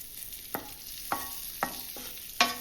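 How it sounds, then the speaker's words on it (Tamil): Eggs coated in turmeric masala are sautéed in oil over a low flame for a restaurant-style egg gravy. A soft, steady sizzle sits under five distinct spatula scrapes spaced about half a second apart. "உடனே நம்ம அந்த முட்டைகளை சேர்த்து நல்லா முட்டை ஒரு கோட் ஆகிற அளவுக்கு வதக்கி எடுத்துக்கணும்"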